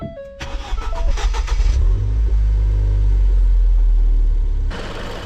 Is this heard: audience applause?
no